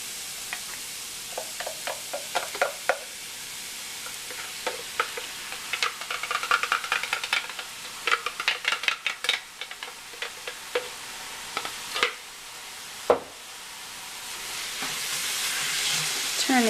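Shredded meat and vegetables are stirred in a frying pan for Whole30 sloppy joes, giving a soft sizzle under irregular scraping and clacking strokes that come in bursts and then fade to a quiet simmer.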